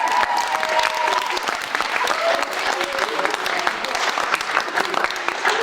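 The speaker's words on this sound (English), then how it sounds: "a round of applause for them" Guests at a wedding celebration at Piper Dam give a warm round of applause for the staff, a dense, lively clapping with a few voices and cheers mixed in, fairly close and continuous.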